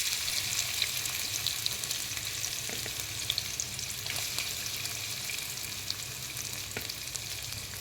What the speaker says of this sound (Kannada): ಚೆನ್ನಾಗಿ ಫ್ರೈ ಆಗಿ ಟ್ರಾನ್ಸ್ಲೂಸೆಂಟ್ ಆಗೋವರೆಗೂ ಚೆನ್ನಾಗಿ ಆಯಿಲಲ್ಲಿ ಫ್ರೈ ಮಾಡಿ.